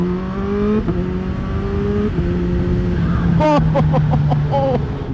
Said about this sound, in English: I'm sort of terrified to do a full throttle pull on this.